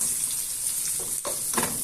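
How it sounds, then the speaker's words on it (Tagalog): Steady sizzling of garlic and onion sautéing in a pan, with a couple of louder stirring scrapes partway through and no talking. "ginisa ko na yung bawang sibuyas"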